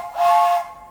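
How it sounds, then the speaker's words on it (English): Steam whistle on a Disneyland Railroad train sounds one short, loud, close blast, breathy and hissing with a steady pitched tone, then cuts off quickly. "2 whistles means we're going to move."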